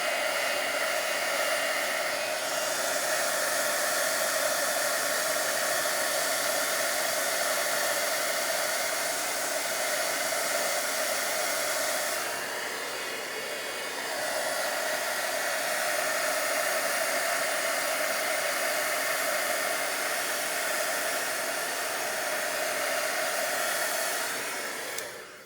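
A heat gun warms the back of a heat-embossed card, producing a constant close whooshing blast of hot air with a short dip in the middle before returning to full force, no voices.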